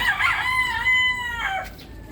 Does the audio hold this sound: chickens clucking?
yes